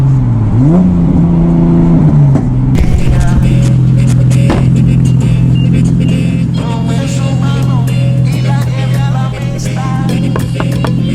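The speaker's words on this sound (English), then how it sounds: "Dude, that Supra's fast." A Toyota Supra accelerating hard in a street race against a turbo 370z, a loud close engine roar climbing through revs with gear shifts and a steady high whine.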